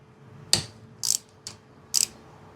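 A Torx key turning a bolt on the power trim of an outboard motor, four short metallic ratcheting clicks spaced unevenly, close and fairly crisp against quiet background.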